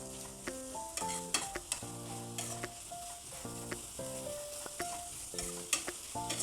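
Vegetables for a veg noodles chowmein sauté over a medium flame, a continuous sizzle with scattered stirring knocks, heard under tonal background music.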